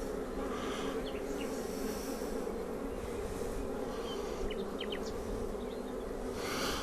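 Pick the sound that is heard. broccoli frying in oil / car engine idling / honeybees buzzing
honeybees buzzing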